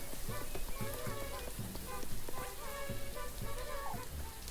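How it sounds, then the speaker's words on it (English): Steady rain falls in the video game Child of the Forest, a constant hiss of drops over the whole stretch, mixed with soft game tones and scattered clicks, with no voices. "This rain won't let up, will it?"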